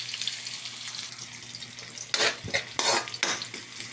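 Aromatics sautéed in a pan for chicken afritada, a steady sizzle with bursts of stirring and scraping from a utensil in the last half, over a faint low hum.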